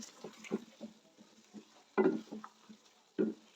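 Mashed brown fried onions being mixed into chicken korma in a pan, soft intermittent stirring scrapes and wet squelches with a few louder spoon knocks, fairly quiet.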